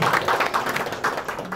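Several people clapping at an academic policy symposium in Korea as a participant is introduced, a brief, close patter of claps with an uneven rhythm.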